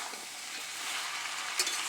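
Bengali pui shak curry with a katla fish head is stirred in a pan with no added water, a soft scraping and faint sizzle continuing evenly, with one brief louder clink near the end.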